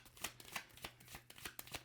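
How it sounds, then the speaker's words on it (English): Tarot cards are riffled and shuffled up close in quick, soft repeated bursts of papery flutter and slaps, steady and fairly quiet, with no talking. "The shuffle is smooth"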